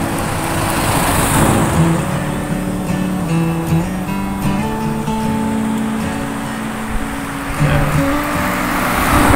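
Heavy evening road traffic with many cars, a steady loud roadway rumble with engines droning and passing throughout, no voices.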